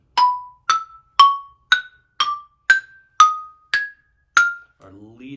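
Nine bright, ringing xylophone strikes in an even rhythm step upward in fourths toward a high F, each note decaying quickly, followed by a short burst of a voice.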